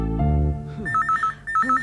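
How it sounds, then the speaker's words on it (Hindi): A telephone rings in a TV drama scene, a low tone fading out before a bright electronic ring pattern repeats in quick pulsing bursts, close and clear. "लगता है चांदनी का फोन है।"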